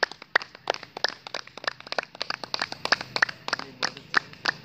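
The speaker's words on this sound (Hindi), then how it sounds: "चलो ताली बजाएं" A group in a morning yoga class claps in a steady run of sharp, close hand claps that continue throughout without pause, and no one speaks.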